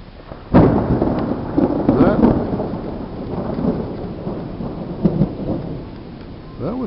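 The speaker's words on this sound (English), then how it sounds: "or thunder, along with a little lightning" A loud thunder crack rolls out after summer rain in open country, followed by long rumbling echoes and a couple of further booms, with muffled talk partly mixed in beneath.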